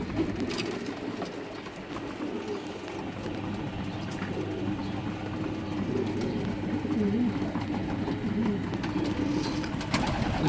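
Racing pigeons in a loft give soft, low, rolling coos over a steady rumble of background noise, with a few faint scuffs and flutters.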